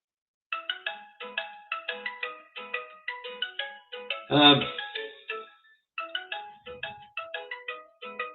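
A phone ringtone plays a bright, repeating electronic melody in short rhythmic bursts, loud and clear against otherwise silent surroundings, with a brief louder thump midway and a short gap before the tune resumes.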